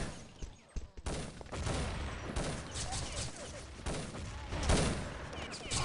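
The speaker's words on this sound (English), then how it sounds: "So good nades here by Rafi and Sidex, and a good push here by Rafi as well" Grenade blasts and dense gunfire from a competitive video game match in a national-team quarter final, a continuous loud barrage of rapid shots and bursts filling the whole stretch.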